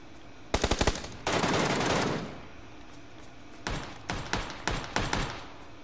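Video game gunfire: a quick burst of four or five rapid shots, then a rushing blast, followed by more scattered bursts of rapid fire, moderately loud and close with no talk over it.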